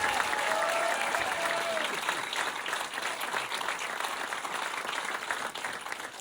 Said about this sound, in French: J'aimerais qu'on applaudisse mon père et ma mère qui sont rentrés dans le spectacle ce soir